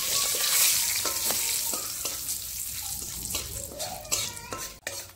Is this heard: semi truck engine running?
no